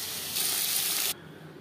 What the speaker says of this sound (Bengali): মাছ ভেজে নেওয়ার তেলে ফোড়নে দিয়ে দিলাম একটা তেজপাতা, 1/2 চামচ পাঁচফোড়ন